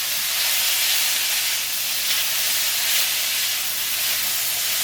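Carrots sautéing in a hot pan for an udon noodle and chicken dish give off a steady, even hiss of sizzling that holds without a break for several seconds, with no talking over it.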